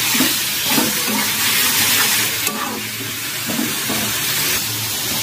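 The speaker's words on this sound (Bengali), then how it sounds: "এবার এর মধ্যে ভেজে রাখা আলু আর বেগুনটা দিয়ে দিলাম" Fried potato and eggplant tipped into spice paste sizzling in a hot pan, with steady loud frying hiss and stirring scrapes, no talk.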